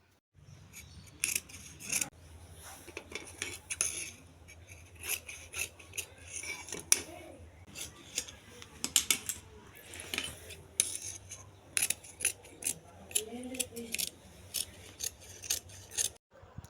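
Scissors cut through fabric while lining and main fabric are trimmed for a baby frock, making close, crisp snips in irregular bursts against a quiet background.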